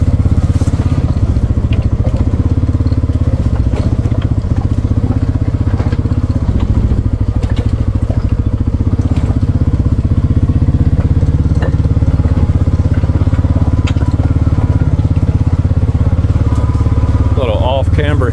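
A 2024 Kawasaki Mule Pro MX side-by-side in two-wheel drive with the rear differential locked grinds up a rough camber hill, its engine droning loud and steady with bumps and crunches over terrain while someone talks over it.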